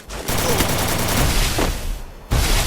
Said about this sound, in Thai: แม่งยิงกันมันเลย